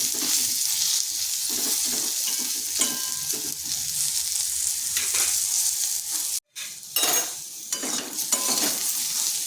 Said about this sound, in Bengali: আর একটু পটলটা ভেজে নিচ্ছি